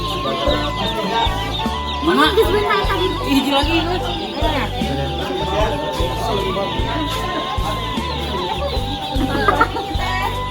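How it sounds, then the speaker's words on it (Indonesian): Chickens cluck and chatter repeatedly close by, with people talking over them throughout. "Ayamnya mau lewat di atas kepala."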